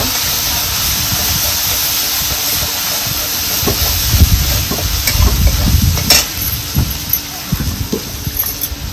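Masala sautéing in a pan for village-style vada pav, a steady sizzle and hiss with stirring scrapes that thicken and grow louder after the first few seconds, no voices.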